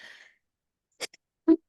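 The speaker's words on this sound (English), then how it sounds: "Excuse me, I'm going to sneeze now." A single sharp sneeze from an adult in a quiet room, short and close, following a faint breathy intake.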